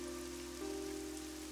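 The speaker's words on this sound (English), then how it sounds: "it's raining" Steady rain falls in the video game AI: The Somnium Files as an even, continuous hiss, with a faint sustained tone running beneath it throughout.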